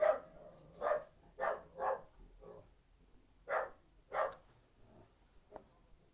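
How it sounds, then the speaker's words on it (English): A dog indoors barks repeatedly after the doorbell, about eight sharp barks in uneven bursts, muffled and somewhat distant in an otherwise quiet room. "So that's my vicious dog, Billy, barking in the background because someone was ringing on the door."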